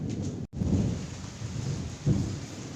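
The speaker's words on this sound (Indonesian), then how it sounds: "Ada petir, teman." Thunder rumbles through a rainstorm, a deep continuous roll with steady rain hiss underneath and a fresh swell of rumbling near the end.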